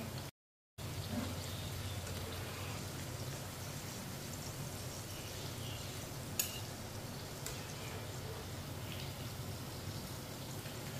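Cabbage tikkis frying in a pan with a steady, quiet crackling sizzle that continues without a break after a brief cut at the start, with one small clink midway.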